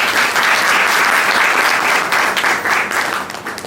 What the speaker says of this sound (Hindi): सभी लोग जरूर ताली बजाएं